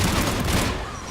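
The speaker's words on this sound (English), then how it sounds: "AA guns ahead." Anti-aircraft guns in Mass Effect 3 pound out a dense, continuous barrage of booming fire that fades slightly at the end.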